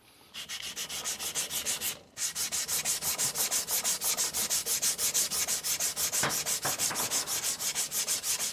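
An Aogami 2 steel Bunka kitchen knife is ground on a coarse 200-grit Nano Hone whetstone, producing a steady, rhythmic back-and-forth scraping of about two strokes per second, close and alone after a brief pause early on.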